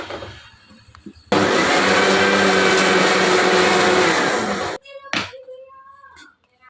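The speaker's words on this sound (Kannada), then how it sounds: "ಸ್ವಲ್ಪ ನೀರು ಹಾಕ್ಕೊಂಡು ರುಬ್ಬಿದ್ರೆ ಪೇಸ್ಟ್ ಚೆನ್ನಾಗಿ ಬರುತ್ತೆ" A kitchen mixer grinder whirs loudly and steadily for about three and a half seconds while grinding chilli paste with water, then cuts off, followed by a few light knocks and clinks.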